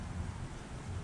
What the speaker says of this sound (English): the wind is blowing that way